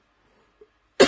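A single sharp cough bursts out near the end after near silence, close and fairly loud, preceded by a faint tiny sound.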